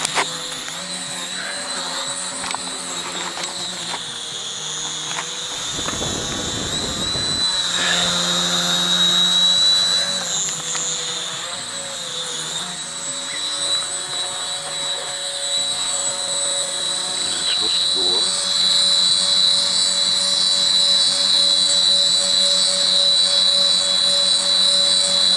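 An AirHogs toy flying machine's propellers spin with a steady high-pitched whine and buzz that swells and shifts in pitch over a long stretch, close and loud, with a brief burst of rushing air partway through.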